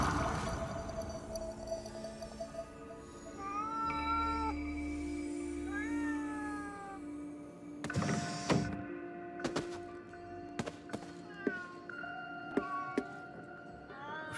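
A cat meows several times in the video game Ghostwire: Tokyo, short rising and falling calls set against ambient game tones and scattered clicks and clanks, with no speech.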